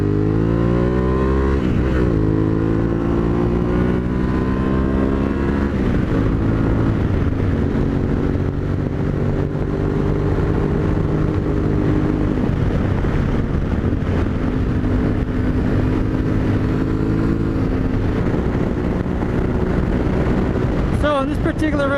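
Yamaha Tenere 700 adventure motorcycle, a 2021 model, held at full throttle in fifth gear on a winding highway, its engine drone steady and loud with rising pitch, wind buffeting close throughout.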